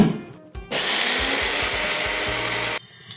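A mixer grinder coarsely grinds soaked dal with curry leaves, ginger pieces, green chillies and cumin, without water, starting abruptly and running loud and steady for about two seconds before cutting off.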